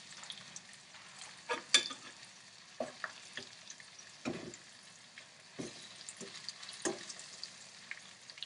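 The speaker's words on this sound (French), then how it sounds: "on fera suer nos échalotes et nos champignons" Shallots and mushrooms sweating in a pan alongside pieces of poultry for a fricassee, a soft sizzle broken by scattered stirring scrapes and clicks, quiet and close.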